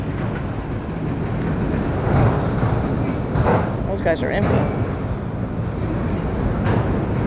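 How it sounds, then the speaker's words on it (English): A long freight train rolls past nearby, a continuous rumbling clatter of wagons with rising and falling rattles, while someone speaks briefly over the noise. "Man, that was a long train."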